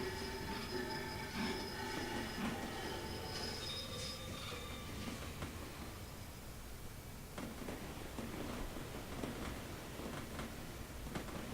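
Train rumbling along the rails in Sid Meier's Railroads, with steady wheel squeal and metallic screeching over a constant mechanical drone, close and fairly loud throughout.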